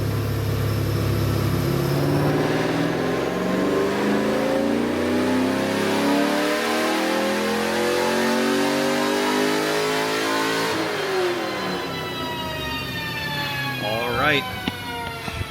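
A 2000 Chevy Camaro Z28 engine with full bolt-ons revs hard and continuously on a dyno, pitch climbing steadily through the gears to a high wail before dropping off abruptly.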